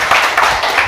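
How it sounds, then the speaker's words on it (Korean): A crowd at a Korean church leader's political rally claps hard on request, giving a loud, dense burst of applause with no one speaking. "박수 좀 세게 쳐봐요"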